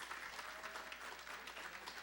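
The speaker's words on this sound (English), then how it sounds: "Can you all get one big round of applause for everybody" Audience at an anniversary celebration claps together in a brief, steady burst, moderately loud and even throughout, with no voices over it.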